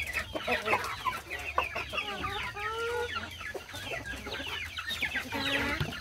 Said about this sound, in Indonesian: Ini ayam broiler kita, broiler non putih.